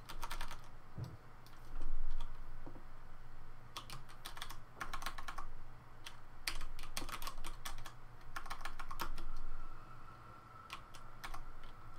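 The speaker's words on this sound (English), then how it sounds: "this is Cheese's keyboard that is a sort of minimized size" Rapid clacking keystrokes on a compact, reduced-size computer keyboard come in uneven bursts and short pauses. The sound is close but fairly quiet, with no talking.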